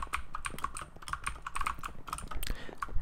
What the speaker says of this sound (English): I've got a mechanical keyboard